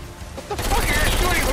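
Rapid video-game gunfire in Saints Row IV bursts in after a quieter moment, dense and loud, with a player's voice talking under the shots.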